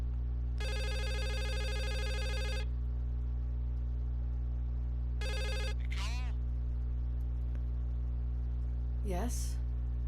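Telephone ringing in the video game The Suicide of Rachel Foster: two loud, steady electronic rings, the first about two seconds and the second shorter, over a constant low hum, followed by brief faint chirping sounds.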